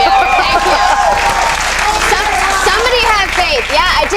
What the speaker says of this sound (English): these guys would cheer pretty much anything you said at this point